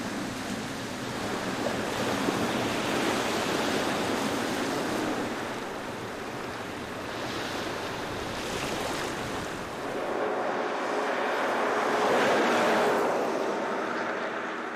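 Surf washes steadily onto an Indian Ocean shore, a continuous broadband roar with slow swells in loudness, wind buffeting the microphone, no voices.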